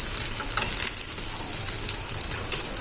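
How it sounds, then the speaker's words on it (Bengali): Garlic and coriander leaves fry in a pan with a loud, continuous sizzle and brief stirring scrapes, with no voices over it. "তো দেখো রসুনটা প্রায় ভাজা ভাজা হয়ে গেছে"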